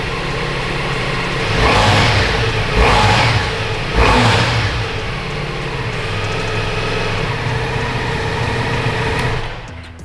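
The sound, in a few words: Ducati Multistrada V4S engine revving with stock exhaust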